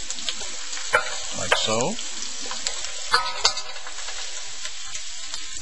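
Garlic and parsley frying in a pan for a white clam sauce, with a steady sizzle and a few sharp clinks of a utensil against the pan, while a person speaks briefly over it.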